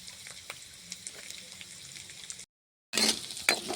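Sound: cumin seeds frying in hot oil

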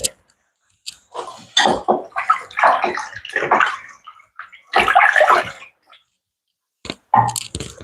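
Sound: washing hands with water before chopping leaves

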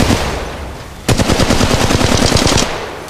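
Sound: gunfire in Apex Legends Mobile video game

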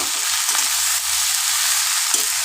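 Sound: stirring bottle gourd frying in a pan

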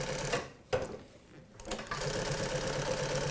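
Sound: NC6 walking foot sewing machine stitching

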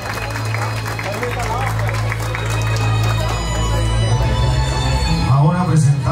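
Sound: audience applause for the quinceañera queen

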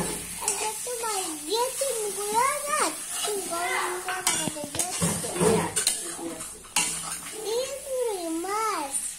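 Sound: stir-frying cabbage in a pan

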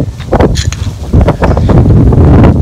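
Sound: wind

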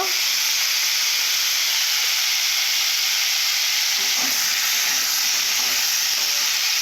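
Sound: vegetables with salt sautéing in pan for rui fish curry

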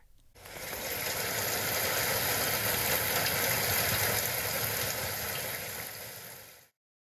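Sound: pouring rain

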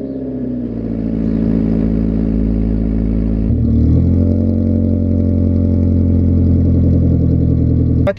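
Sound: Lexus IS300 car engine starting and running

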